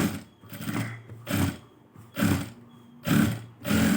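A sewing machine stitches a blouse's lining and main fabric together in short bursts, about five separate runs of whirring separated by brief pauses, close and moderately loud.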